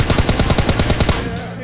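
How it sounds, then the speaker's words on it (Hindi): Rapid burst of gunfire in PUBG Lite, about eleven sharp shots in quick succession over a second before cutting off, loud and close with a brief ringing tail. "Running sniper shot."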